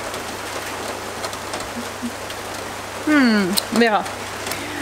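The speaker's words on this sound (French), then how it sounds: "C'est une pluie d'orage hein, puisqu'on entend que ça gronde dans le fond" Steady rain from a thunderstorm falls in a continuous hiss close by, with a person speaking briefly over it near the end.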